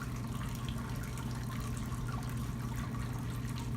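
Hot water poured in to sparge a bourbon-style all-grain mash, with liquid draining out in a steady, close, even trickle and gush that runs throughout without speech.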